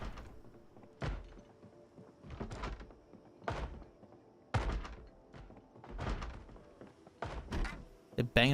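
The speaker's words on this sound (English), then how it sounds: "They're banging up against the fence?" Zombies in Project Zomboid bang against a fence, a string of irregular, hollow thuds and knocks that repeats roughly every second, sounding close and fairly loud.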